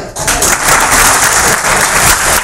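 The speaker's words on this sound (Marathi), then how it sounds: "मग त्या पोलिसांना प्रशिक्षण देणाऱ्या व्यक्तीसाठी टाळ्या होऊन झाले पाहिजे" Loud, close audience applause at a job fair seminar for a police trainer, dense continuous clapping from a large crowd with some voices mixed in.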